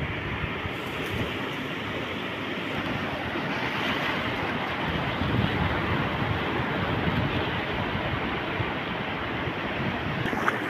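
Ocean waves wash steadily at sea during a net-fishing outing, a broad continuous rush with wind buffeting the microphone and no voices.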